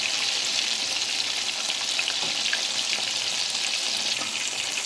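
Chicken fries in a pan with a dense, even sizzle that stays loud and close throughout, with faint bubbling and light crackle and no speech.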